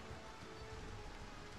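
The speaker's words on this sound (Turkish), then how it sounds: "Hava yağmurlu." Rainfall in the video game Mount and Blade II Bannerlord, a soft, steady, even hiss of rain with no breaks, faint and unbroken, with no voices over it.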